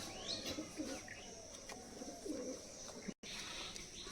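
Soft, low cooing from teddy pigeons, a few brief calls over a quiet outdoor background with faint chirps.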